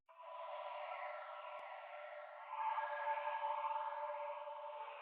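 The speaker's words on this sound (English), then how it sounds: "That one also just has some reverb, bandpass, and a fruity phaser on the airy texture preset" A steady airy ambient texture loop for a dark beat, run through reverb, a bandpass filter and a Fruity Phaser, sweeps and shimmers in a narrow midrange band, quiet and continuous throughout.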